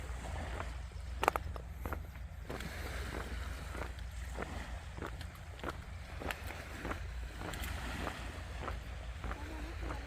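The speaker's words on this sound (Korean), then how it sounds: "파도 소리와 바다 풍경은 너무 정겹습니다" Ocean waves washing onto a littered seashore, a steady rushing wash with wind noise buffeting the microphone, heard from nearby at moderate loudness.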